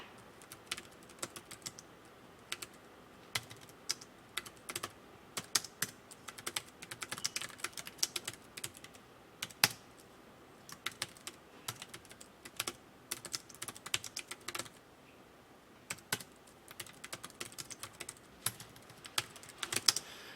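Someone types on a computer keyboard with short bursts of quiet, crisp key clicks. The bursts are broken by pauses and stay close and faint over about twenty seconds, with no talk.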